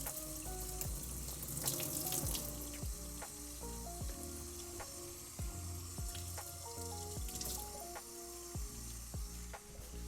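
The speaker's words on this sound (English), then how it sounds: "So its first rinse." Water runs steadily during the first rinse of home film developing, a continuous splashing wash with faint clinks and tonal ringing on top, fairly quiet and without voices.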